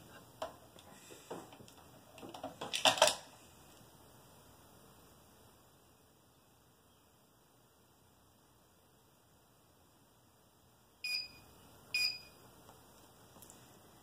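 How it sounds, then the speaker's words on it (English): An ON-SITE System Manager gives short electronic power-on beeps: a cluster of bright tones near three seconds, then two more brief beeps later, against faint background hiss. "Once the System Manager is connected to power, you should hear a beep and see the red power light."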